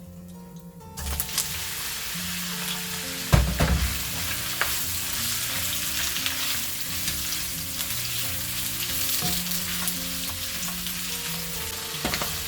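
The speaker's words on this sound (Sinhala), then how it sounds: "මේ ටිකක් දාගෙන පොඩ්ඩක් ෆ්‍රයි කරගන්න" Chicken and oyster mushrooms fry in a pan with a steady, close sizzle. There is one brief clatter from stirring near the start.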